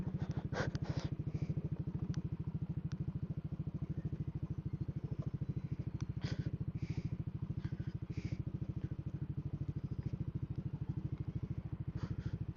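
Motorcycle engine running steadily throughout on a muddy rural road, a constant close mid-pitched drone with faint clatter and brief crackles, no talk.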